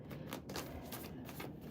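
Tarot card deck being shuffled by hand, a steady run of rapid riffling flutters repeating several times, close and fairly quiet with no voices.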